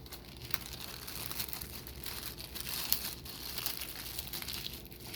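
Plastic bag crinkling and rustling as a Starburst candy is folded in half inside it, a steady close crackle running several seconds with no talk.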